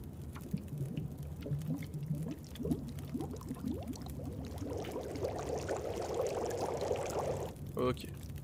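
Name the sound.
melting snow and boiling water in The Long Dark video game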